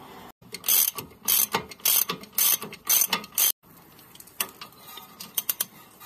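Ratchet wrench clicking as it loosens the 19mm lower strut bolts on a Honda CR-Z, several loud bursts of rapid ratcheting close up, then a pause and quieter, sparser clicks.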